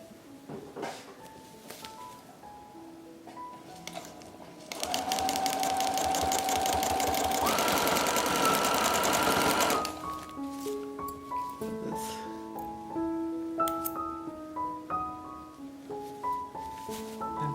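Sewing machine fitted with a free motion quilting foot, a loud rapid buzzing whir that runs steadily for about five seconds in the middle, with softer tones and quieter sounds before and after.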